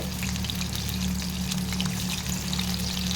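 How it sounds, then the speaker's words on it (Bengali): Small amudi fish pakoras fry in a kadai of hot oil, giving a close, steady, dense crackling sizzle with a low hum beneath it and no speech. "এখন আমি কড়াইতেই মাছগুলো দিয়েছি"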